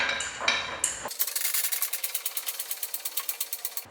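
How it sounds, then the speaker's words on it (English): A jack lifts an EZGO TXT golf cart at the bumper, giving a close, steady run of quick, evenly spaced ratcheting clicks after a brief scraping shuffle, with no talking. "we're going to walk around here to our jack and start jacking it up right at the bumper"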